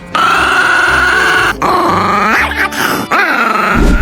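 A Chihuahua growls and yips loudly and close up, with sustained strained growls and whiny, rising yips broken by brief pauses, all filling the clip without any talk.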